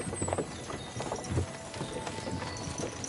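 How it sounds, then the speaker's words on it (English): Horse hooves clip-clopping at a walking pace in the medieval game Kingdom Come Deliverance 2, a steady uneven rhythm of close thuds over faint outdoor ambience. "Nice horses you have there."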